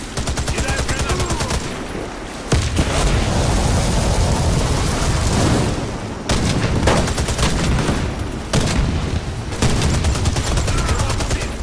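Dense, loud sniper and rifle gunfire in the shooter game Warface, with bursts and bullet whistles filling the whole stretch and only brief dips between volleys.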